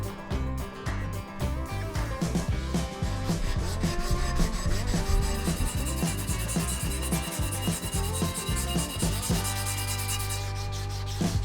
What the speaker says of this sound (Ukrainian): Тепер потрібно відшліфувати і частину з рукоятками